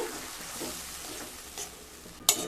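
Chili and turmeric powder are stirred in a pan for an egg and cauliflower curry, making faint scraping swishes with a soft sizzle close by and a sharper clack near the end.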